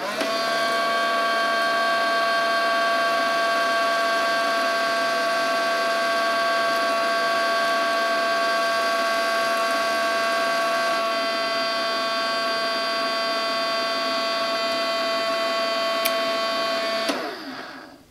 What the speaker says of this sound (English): Let's see if this toy Miele is going to pick this up.